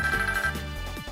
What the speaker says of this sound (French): Ok, sonnerie